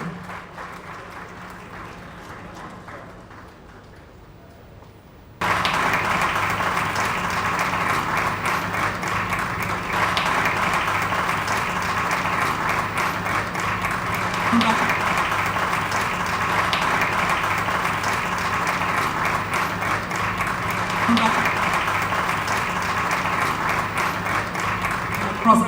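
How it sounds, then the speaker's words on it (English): An audience at an awards ceremony honouring African business leaders applauds a laureate. Steady clapping starts after a quieter opening and carries on for about twenty seconds under music and background sound. "Please give us a round of applause for our laureate, Gervais Kofi Jondo."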